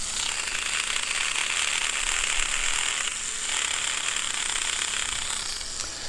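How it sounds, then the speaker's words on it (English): A worn-out disc sander grinds steadily with a harsh, continuous buzzing rasp, close and unbroken for several seconds, with no talking. "So my disc sander's almost dead."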